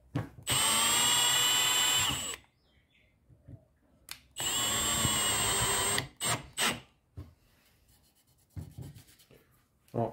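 A Makita drill bores into timber panelling in a Wellcraft interior, with two loud whining bursts of about two seconds each separated by a pause, followed by faint scattered clicks and handling noises.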